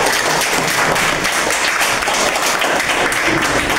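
A classroom of students bursts into loud, dense applause for a correct answer, rapid overlapping claps held at steady volume for a few seconds with no talk.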